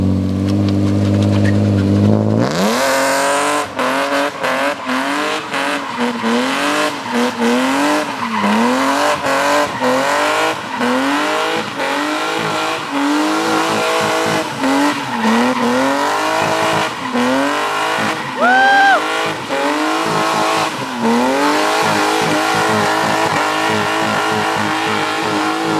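Car driven hard, likely a BMW E36, with loud sustained engine revving through repeated gear shifts and surges, tires squealing and skidding near the middle, close and continuous with no talking.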